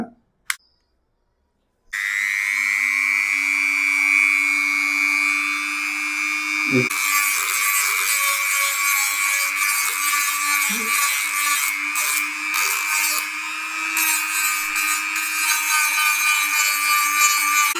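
An Ingco 1300W mini angle grinder is switched on after a short click and silence, then runs with a steady high motor whine that grows brighter and buzzier partway through, close and loud throughout.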